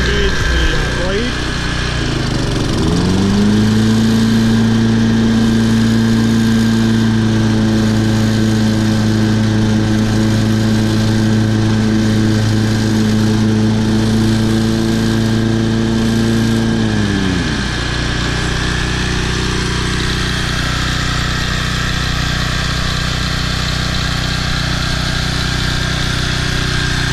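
A Toro Personal Pace Model 20333 walk-behind lawn mower with a new carburetor runs steadily, then its engine bogs into a louder, lower drone for about fifteen seconds as the blade engages, later settling back to a lighter idle.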